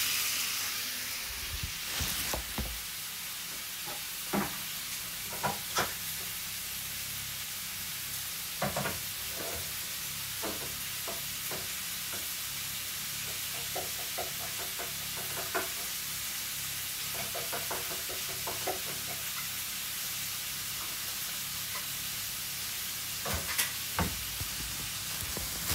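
Tomato sautés in a pan with a steady close sizzle, joined by occasional knocks and scrapes of a utensil against the pan over a long stretch.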